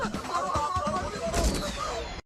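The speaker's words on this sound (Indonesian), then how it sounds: "Terlihat Lenny dan Asgar menembaki anak buah Anna hingga tumbang semua" Gunfire rings out in a mafia action film scene as two shooters gun down a gang of henchmen: dense, loud bursts of shots over a busy soundtrack, with one especially heavy blast near the end.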